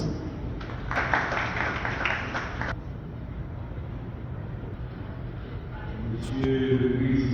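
Applause at a theology graduation ceremony, a short burst of dense clapping lasting a couple of seconds over steady room noise, then fading into background hum and distant voices.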